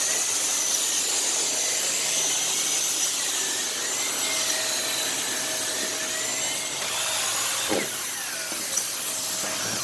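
A Dyson Cinetic canister vacuum runs across a tile floor with a steady, loud whining drone, its pitch holding constant, with a short rattling scrape near the end.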